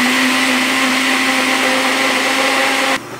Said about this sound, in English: I'm going to let this blend up on what's it called? Smoothie, or about the middle setting on the blender.